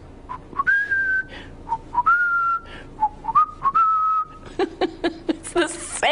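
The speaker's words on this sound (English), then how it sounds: "He has this unmistakable whistle in the newsroom." Someone whistles a bright, wavering melody with sustained notes and short breaks, close and clear, ending in a few quick chirps and rustling.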